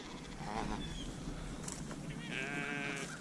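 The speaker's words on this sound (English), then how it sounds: "Sheep!" A flock of sheep bleating outdoors, several wavering calls rising at intervals from different animals at middling distance over a steady background rush.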